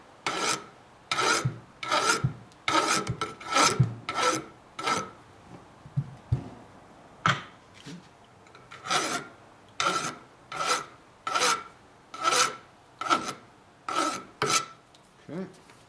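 A hand file rasps a chamfer onto a fork part during a 2004 Harley FLHT Twin Cam touring suspension rebuild, with steady rhythmic strokes about once a second, close and moderately loud, broken by a short pause midway.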